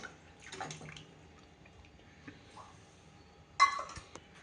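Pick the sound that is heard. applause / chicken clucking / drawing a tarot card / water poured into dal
water poured into dal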